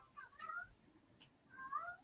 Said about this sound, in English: you guys are going to be hearing my Kryptonian kitty